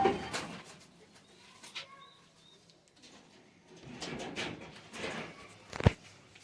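Pet pigeons coo softly in a quiet setting, a few low murmuring calls spaced across several seconds with faint rustling and a sharp knock near the end.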